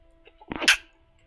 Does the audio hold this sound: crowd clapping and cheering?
no